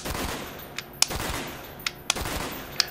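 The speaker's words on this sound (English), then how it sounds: "By default, burst firing starts out with 2-round bursts." Burst fire from a PS3 game using a Ragnarok rapid-fire controller: short two-round bursts of gunshots repeating at intervals, crisp and moderately loud, with no talking.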